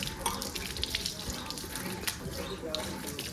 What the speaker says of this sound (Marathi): मी आता शेतातून आलो चप्पल माती होती म्हणून धुतो